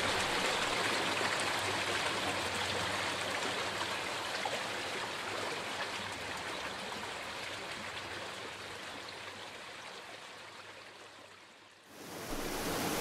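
Iléhou waterfall cascading on a mountain stream, a steady broadband roar of rushing water that holds throughout, dipping briefly and swelling back near the end.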